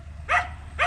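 Two dogs barking, heard as two short sharp barks about half a second apart over a low background rumble, no voices.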